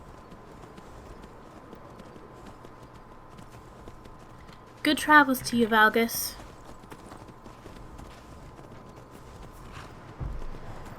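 Horse hooves clip-clop in the Skyrim video game, a brief close burst of brisk steps rising over quiet ambient hum, with a voice speaking in the scene.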